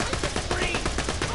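Rapid gunfire from the Borderlands 2 VR game keeps up a dense, continuous burst at an enemy for just over a second, loud and close.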